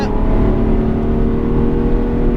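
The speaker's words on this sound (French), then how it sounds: "Et là je remets un filet de gaz." A race car engine on the Bugatti circuit at Le Mans holds a steady, loud drone with dense harmonics as the throttle is eased back on, close and continuous with no speech.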